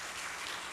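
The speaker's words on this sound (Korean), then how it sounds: "박수로 격려해 주시면 좋겠습니다" A church congregation at a family worship service claps in encouragement, a faint, brief, even patter of applause.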